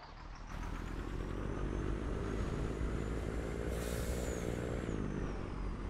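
A semi truck engine in the video game Farming Simulator 19 drones loudly and steadily after a brief quiet start, with a rising whine partway through and no talking.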